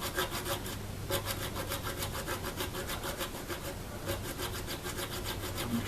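A small saw cuts string slots into a guitar nut, a close, steady rasping in quick regular back-and-forth strokes with no pauses or voices.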